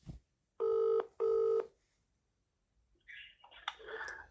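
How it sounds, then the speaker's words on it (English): A telephone rings twice in two steady electronic bursts before voicemail picks up, followed by faint, thin line noise and clicks. "Ring you up, Graeme Kenna."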